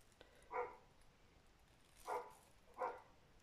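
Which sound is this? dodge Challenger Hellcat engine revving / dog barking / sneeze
dog barking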